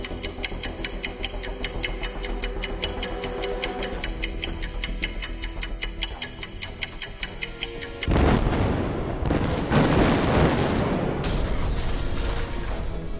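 A hydrogen bomb detonation in archival Tsar Bomba footage: a steady ticking beat gives way to a sudden loud, sustained roaring rumble that swells and lingers without voices.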